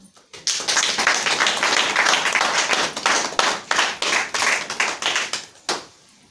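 An audience at a political meeting in Brussels bursts into close, loud applause that builds quickly, holds dense and even, then thins into scattered claps and dies away.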